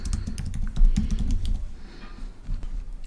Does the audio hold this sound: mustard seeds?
no